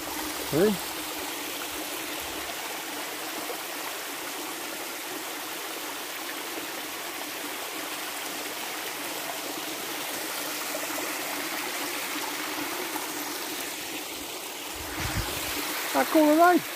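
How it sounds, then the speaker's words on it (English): A steady rush of flowing water from small waterfalls in a stream fills the whole stretch, close and constant, with brief voices at the start and end. "It's got little waterfalls."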